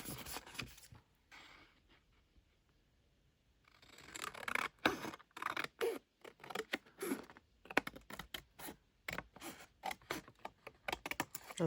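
Scissors snip through paper scraps for making paper beads, a quiet start followed by a quick run of crisp, close cutting strokes in an irregular rhythm.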